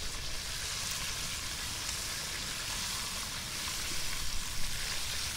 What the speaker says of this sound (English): Time to flip the Almaco.